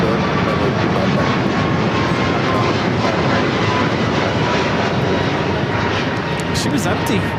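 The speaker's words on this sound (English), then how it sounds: "This is Lufthansa 452 coming in from Munich on the A380." A Lufthansa Airbus A380 arriving from Munich lands at LAX, a steady, loud broadband jet roar that holds without letup for several seconds.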